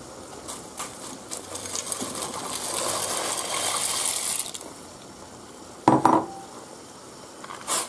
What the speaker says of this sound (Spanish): Ya está hirviendo y ahora echamos los macarrones.